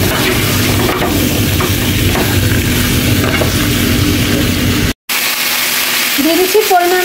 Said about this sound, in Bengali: কিছুক্ষণের মতো ভেজে নেব।